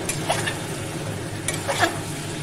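Katla fish curry masala being sautéed in a pan, with soft stirring scrapes and a low steady sizzle, slightly louder strokes near the start and again toward the end.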